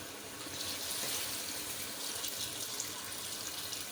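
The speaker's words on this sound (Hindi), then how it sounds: "तो अब मैं इसमें ऐड करूँगी पानी।" About half a jug of water pours into a pot of aloo gosht after the spiced meat has been fried in oil, a steady hissing splash that runs continuously.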